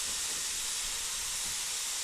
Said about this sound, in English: It is leaking a little bit from this 3D printed gasket that I did